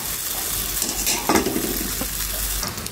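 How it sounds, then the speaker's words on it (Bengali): Ripe mango malpoa pitha frying in hot oil, a loud close sizzle with a burst of spoon stirring and pan scraping midway, no voices. "একইভাবে সম্পূর্ণ পিঠাগুলান আমি ভেজে নেব।"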